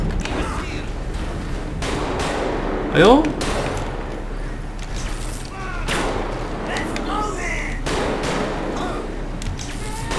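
Gunfire from the video game GTA 5 comes as several heavy thudding shots scattered across the stretch. Someone talks and exclaims over them.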